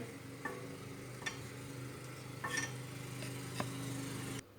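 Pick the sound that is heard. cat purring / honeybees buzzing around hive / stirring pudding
stirring pudding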